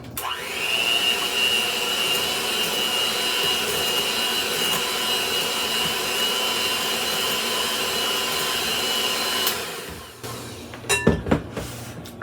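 An electric hand mixer with beaters whirring through pumpkin bread batter: a steady, loud motor whine held for about ten seconds, then switched off and followed by a few knocks and clatters.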